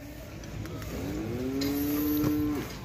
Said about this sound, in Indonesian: Sempat tak cek sapi ini di desa bersama teman saya, Mas Andre.